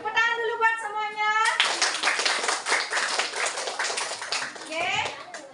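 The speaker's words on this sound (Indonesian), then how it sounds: "Tepuk tangan dulu buat semuanya." Children clapping their hands together in an elementary school classroom, a dense burst of many small claps that starts after a child's sung or spoken voice and continues steadily for several seconds, with children's voices mixed in.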